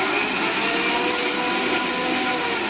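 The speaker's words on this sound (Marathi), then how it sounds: "शेंगदाणे तळलेले तर ते त्याच्यातच टाकते मी आणि हे मिक्सरला फिरवून घेते." A mixer grinder whirs steadily as it grinds fried peanuts and whole spices into a paste for a home-cooked curry, a loud, continuous motor drone with no talk.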